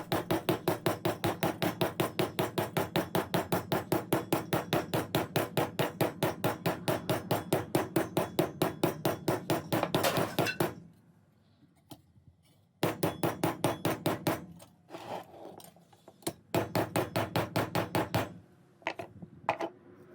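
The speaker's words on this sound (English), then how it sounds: "Listen close, you can hear all the things falling off of my workbench while I'm hammering." Rapid, steady metallic hammer blows on a copper sheet, texturing a feather shape on a workbench, a fast rhythmic run of strikes, then a brief pause and irregular bursts of hammering with small clatters of objects falling.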